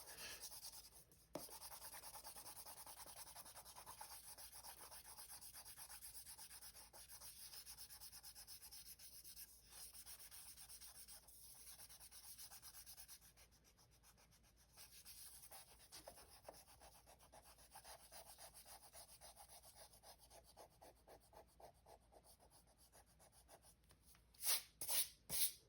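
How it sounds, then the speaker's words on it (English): An eraser rubs out pencil lines on paper during a children's kitty drawing lesson, a soft continuous scrubbing that runs close and steady for many seconds with brief pauses, ending in a few louder strokes. "now we're gonna go ahead and erase all of those pencil"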